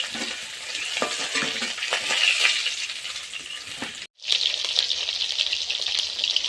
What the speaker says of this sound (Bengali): সব মাছ ভালোভাবে ভাজা হয়ে গেছে